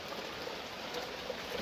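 Rain falls beside a cave on a wet day, a soft, steady hiss of drops spread evenly across the clip at low volume.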